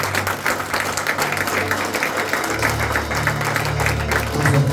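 A church congregation applauds loudly and steadily, with cheering voices mixed into the continuous clapping.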